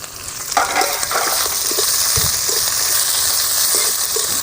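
Onions fry in hot oil with fennel seeds, cinnamon, cloves and green chillies, making a loud, steady sizzle with a few soft stirring scrapes near the start and no talking.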